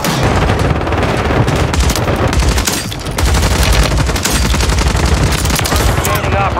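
Rapid automatic gunfire from a video game on Rebirth Island, loud and continuous bursts filling the scene with a brief lull midway, while a voice talks over it.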